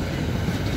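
A long train rolling past, a steady low rumble of rail cars with no breaks in the brief sound.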